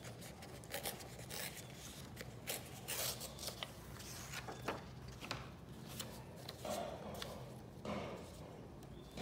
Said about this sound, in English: This one I'll cut again.